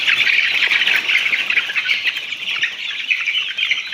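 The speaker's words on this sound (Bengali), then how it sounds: "মুরগিগুলো খুব সুন্দর থাকে, মুরগিগুলো খুবই ভালো থাকে" Caged chickens on a poultry farm in Sylhet, Habiganj, with dense, continuous clucking and squawking from many birds close by, with no talk over it.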